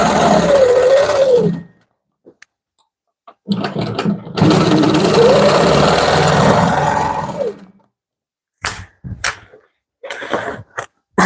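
A quilting sewing machine runs in sustained bursts while stitching in the ditch on a panel quilt, its motor whirring steadily up close, separated by pauses and a few short clicks and taps.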